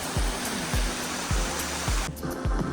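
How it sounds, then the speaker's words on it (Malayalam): A waterfall on the Agasthyarkoodam trek, a steady, loud broadband rush of falling water that is heard alone and continues throughout, with no voices over it. "വളരെ മനോഹരമായൊരു വെള്ളച്ചാട്ടമാണ്."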